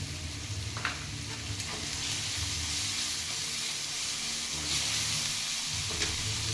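Vegetables sautéing in a little oil with a pinch of turmeric, a steady close sizzle and hiss with occasional stirring scrapes, for the filling of Maharashtrian vada pav.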